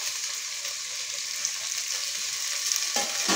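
Okra and other vegetables fry in a pan for sambar, giving a dense, steady sizzle with a few soft stirring sounds near the end.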